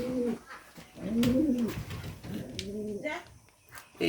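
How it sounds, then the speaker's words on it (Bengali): Racing pigeons in a loft coo softly and repeatedly close by, with low, rolling calls that rise and fall over a quiet background. "তো চলেন এবার রেস করা কবুতর দেখাই।"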